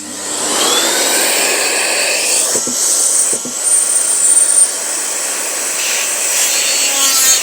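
A vacuum cleaner drones steadily and loudly throughout, with a high whine and a couple of brief dips in the motor's pitch midway.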